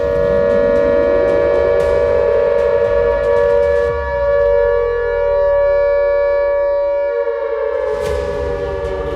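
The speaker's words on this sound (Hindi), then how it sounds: "खैबर पख्तूनख्वा के कई शहरों में सायरन्स की आवाज गूंजने लगी" A loud electric air raid siren in Khyber Pakhtunkhwa, Pakistan, wails steadily, its tone dipping and rising again, with a faint, ringing, mechanical clatter underneath and no voices.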